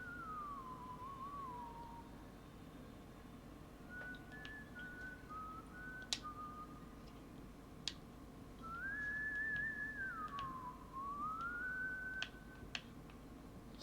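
Eerie whistling from the horror game White Day drifts through a quiet school hallway, a wavering tune rising and falling in separate phrases over a faint background hum, with a few sharp clicks.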